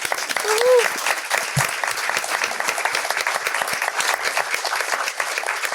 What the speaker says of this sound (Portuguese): uma salva de palmas aqui pelo Yuri Lopes Pereira